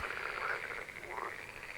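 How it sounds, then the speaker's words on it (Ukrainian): A frog croaks in a fairly faint, continuous raspy call with a pulsing rhythm and a couple of rising swells, with no talk over it. "Так, це легко. Жаба."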